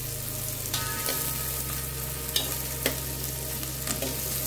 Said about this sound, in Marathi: हे मी चांगले आता परतून घेते